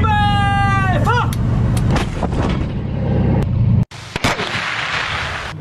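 An amphibious combat vehicle's gun fires at a sea target during live-fire training off eastern Guangdong: shouted commands, then sharp bangs and a loud, abrupt main blast over a rumbling engine.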